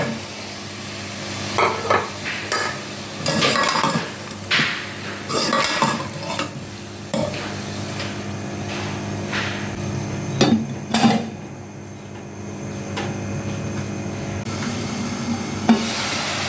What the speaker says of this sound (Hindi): अब इसके अंदर हम अदरक लहसुन का पेस्ट ऐड करेंगे, टमाटर, हरी मिर्च